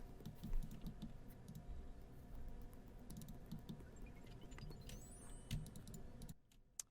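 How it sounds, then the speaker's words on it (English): Rapid mouse and keyboard clicking during RuneScape runecrafting training, a steady patter of small quiet clicks running for several seconds before dropping away near the end, with no talking. "Hopefully the clicking from runecrafting training is somewhat tingly."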